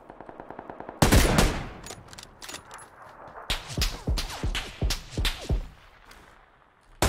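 Gunfire in PUBG: a sharp close shot followed by a series of spaced, repeated cracks with echoing tails, some rapid rattle early on, loud and fairly near, with no talk.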